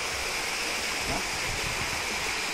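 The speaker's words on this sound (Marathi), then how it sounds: "निखळ सुंदर असा धबधबा." A waterfall on the Prabalgad fort trek near Mumbai pours in a steady, dense rushing roar, broad and continuous, heard alone without voices.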